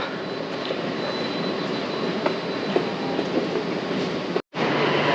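Steady broadband rumble of a Dubai metro train running, continuous and fairly loud, with a brief dropout near the end; no talking.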